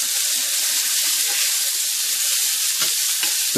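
Hamburger patties sear in a hot pan with a steady, close, hissing sizzle. A few faint pops and scrapes come through near the end.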